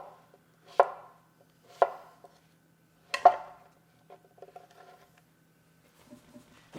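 A knife cuts through a zucchini on a board in three sharp, separate chops spaced about a second apart. Softer handling taps and shuffles follow. Close and clear, with no voices.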